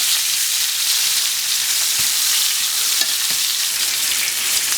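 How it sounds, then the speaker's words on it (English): Medium-thick pork chops brown in a pan over medium-high heat, giving a loud, steady sizzling hiss with a few faint clicks, and no voices. "So we're going to brown these on the first side."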